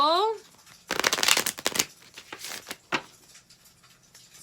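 Oracle cards being shuffled during a sound-healing reading: a quick run of dense papery riffles and flutters, close and fairly loud, after a brief voiced sound at the start, then a few lighter card slaps.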